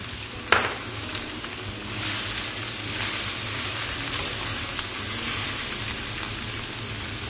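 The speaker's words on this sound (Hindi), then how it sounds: "इस प्याज को मैंने लाइट ब्राउन नहीं करना, इसको मैंने जस्ट सौते करना है।" A large onion sautéing in oil in a pan for palak chicken: a steady, close sizzle that follows a sharp clink near the start, holds evenly throughout, and has no talking over it.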